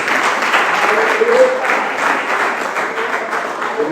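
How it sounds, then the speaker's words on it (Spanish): A church congregation applauds with dense, continuous clapping that stays at an even level throughout, a faint voice briefly audible beneath it. "Fuerte aplauso para el Señor"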